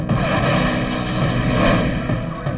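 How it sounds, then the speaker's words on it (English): A massive bomb detonates at the Cuban mission to the United Nations in uptown Manhattan, heard as a loud, sustained broadband roar and rumble that fills the whole stretch with no voices. "A massive bomb detonates at the Cuban mission to the United Nations."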